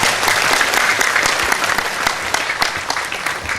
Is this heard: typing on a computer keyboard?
no